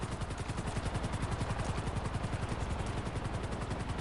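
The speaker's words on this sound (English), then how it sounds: "I hear a chopper." A helicopter flies in GTA Online, its rotor thumping in a steady rapid pulse that stays loud and constant throughout, with a broad hiss over the top.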